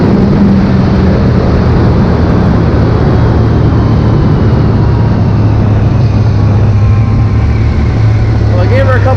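A Polaris Sportsman 850XP ATV on ITP Cryptid tires runs at speed, its engine a loud, sustained drone with a steady pitch, recorded close with rushing wind noise.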